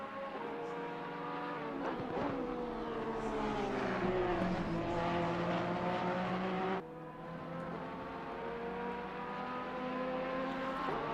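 Porsche race car at Oulton Park in a sim racing game, engine droning steadily with harmonic tone rising as it powers out of a corner, holding a loud sustained note before a slight drop, with another car nearby.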